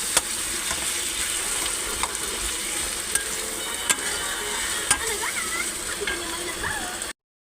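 Chopped tomato frying with ginger-garlic paste for prawn malai curry, a close, steady hiss of hot oil with a few sharp utensil taps against the pan, ending abruptly.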